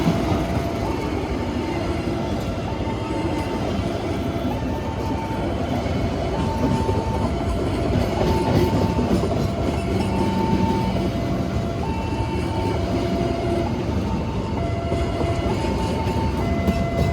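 An Indonesian train passes steadily and loudly for a long stretch at a closed level crossing, wheels rumbling with a rhythmic clatter while the crossing bell dings repeatedly.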